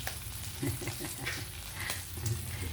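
Dried fish frying in a pan for a home breakfast, heard as a close, steady sizzle and crackle with small pops throughout.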